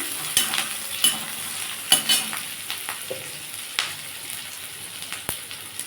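Onions sizzle in hot oil while a spatula scrapes and knocks against the pan at irregular intervals, close and clear.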